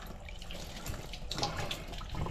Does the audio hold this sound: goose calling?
no